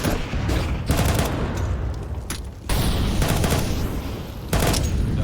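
Counter-Strike 2 rifle fire sprays at walls in rapid bursts, loud and close, with dense overlapping shots and brief gaps between volleys and no voices.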